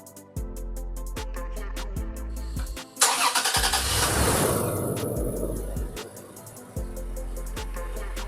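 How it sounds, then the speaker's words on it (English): A 2016-23 Toyota Tacoma with a 3.5L V6 and a cold air intake cranks with a rhythmic starter whir, then fires up and surges loudly before settling into a steady idle. The sound is close and stays prominent throughout. "we're gonna go ahead and start this up right now"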